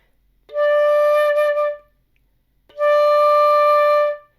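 Two sustained flute notes on the same pitch, a second-octave D, each held over a second with a clear pure tone, separated by a brief silence.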